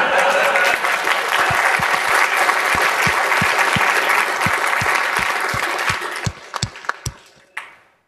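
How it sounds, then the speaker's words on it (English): An audience at a Linux conference talk applauds in a dense, sustained burst that thins out toward the end into a few last scattered claps. "I think that needs another round of applause, eh?"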